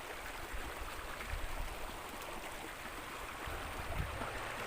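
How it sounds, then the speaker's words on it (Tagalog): A strong river current in a rural spot in Taysan, Batangas, where people come to wash clothes and bathe, rushes as a steady, dense broadband roar, continuous and even, with no voices. "malakas na agos po dito."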